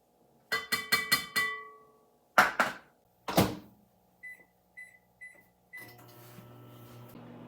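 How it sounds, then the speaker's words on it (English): A microwave oven melts butter in a microwave-safe bowl for grandmother's brownies: a quick run of keypad beeps and a couple of door clunks, then four short, evenly spaced beeps before a low, steady running hum takes over. "we're going to melt in a microwave-safe bowl the butter"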